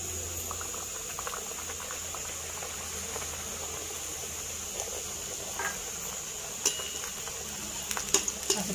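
Puris frying one by one in hot oil, a steady soft bubbling sizzle with occasional crackles and pops growing busier toward the end, fairly quiet and close with no talking.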